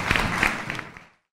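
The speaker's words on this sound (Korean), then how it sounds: "박수 좀 부탁드리겠습니다" After a lecture, an audience claps briefly, a dense burst of applause that quickly fades out into silence.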